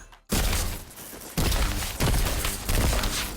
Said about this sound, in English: Sometimes it sounds like a default pulse grenade.